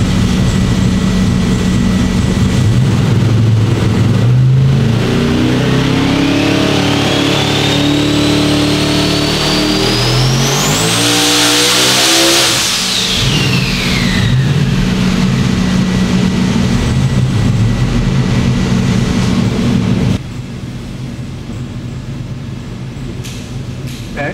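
A drag car engine with twin 82mm turbos revs up and pulls hard in a sweeping, rising acceleration loud and close, with a high turbo whine climbing over the roar before it settles back to a steady idle.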